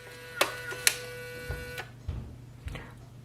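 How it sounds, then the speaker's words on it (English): An Instax Link Wide photo printer restarts after a paper jam, giving a few sharp clicks, a short whirring motor run and soft mechanical thumps as film is pushed out, close and fairly quiet. "So it will just make the film out."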